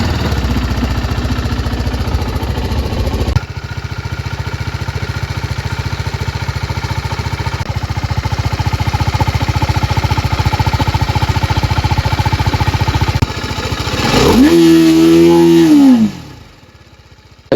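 A TVS Apache RR310 motorcycle is started with its self-starter, then idles steadily with a close, buzzing rumble before a short run of revs rises and falls near the end.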